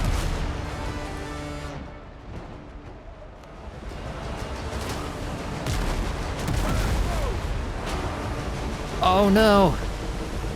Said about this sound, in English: My ship exploded.